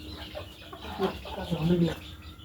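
Soft hen clucks come in short bursts, moderately near, over a busy background with faint voices.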